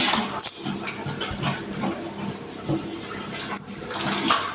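Tap water runs and splashes while hands are lathered and washed with soap outdoors at a lakeside spot in Dubai after cleaning tilapia, a steady hissing flow with small splashy bursts, no talking.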